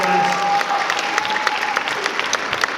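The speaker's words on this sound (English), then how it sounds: "Give him a round of applause." Applause at a book launch party, a crowd clapping steadily and fairly loudly while a short spoken phrase overlaps the start.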